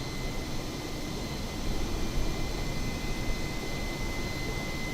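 Airbus A320neo jet engines at cruise in Microsoft Flight Simulator, Virgin Australia livery: a steady, broad airy roar with a faint high whine, constant and even throughout.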